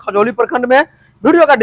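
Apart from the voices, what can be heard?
No distinct noise like a dog, phone or traffic.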